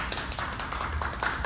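Applause at a book reading in a Salt Lake City theater, with a quick run of claps close to the microphone over faint room noise.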